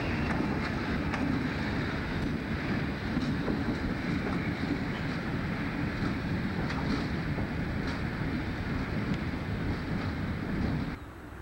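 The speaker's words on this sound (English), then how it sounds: "The train starts its slow run to Winchester." Freight train pulled by three Alco diesel locomotives sets off on a slow run, a steady, loud rumbling drone with faint clanks and wind buffeting throughout, no voices.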